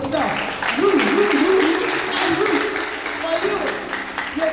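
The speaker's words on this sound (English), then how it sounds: "Clap your hands for yourself." An audience at a university orientation for newly admitted students claps, a dense patter of hands rising and falling, while a speaker's voice talks over the applause.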